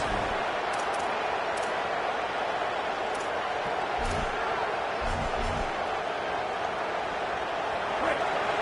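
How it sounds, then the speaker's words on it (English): Steady roar of a football stadium crowd in Utah early in a game, a broad continuous rumble of many voices filling the background, with a few low thumps and faint talk over it. "Listen to the crowd energy here in the early going."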